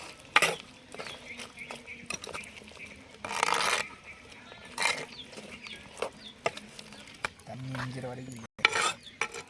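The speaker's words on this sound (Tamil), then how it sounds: "கறி நல்லா கொதிச்சிட்டு இருக்கு, கிண்டி விடுவோம்." A spoon stirring boiling chicken gravy in a pot, with short scraping strokes and clinks against the metal over a soft bubbling simmer, close up, no talking.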